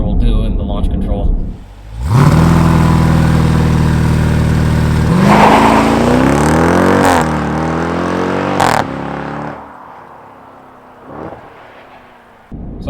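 A 2020 Jeep Grand Cherokee SRT engine roars under a launch-control start, revving loud and close with rising pitch through gear changes before easing off into a quieter cabin hum.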